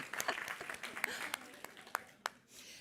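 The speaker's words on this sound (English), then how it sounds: "Let's have an applause for" Scattered applause from a conference audience at a circular textile industry event, a few sharp claps standing out over a thin, quiet patter that fades toward the end.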